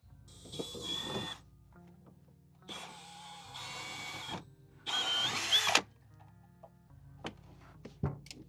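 A power drill fitted with a pilot bit bores holes while installing air helper bags on a BMW X5, running in three loud whining bursts of about a second each, separated by short quiet pauses and a few clicks.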